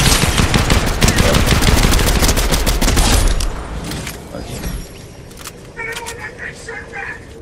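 Gunfire from a weapon in the video game Fortnite: loud, rapid automatic bursts close up for a few seconds, then sparser, quieter shots and game sounds.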